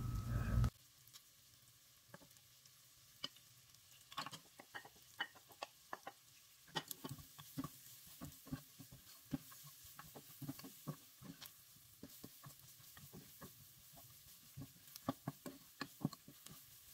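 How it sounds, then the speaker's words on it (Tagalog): Onions frying until brown for chicken kabsa, a quiet low sizzle dotted with irregular spatters and crackles of spitting oil, near and faint, with a brief bump at the start and no speech. "hintayin lang natin hanggang mag-brown ang onion"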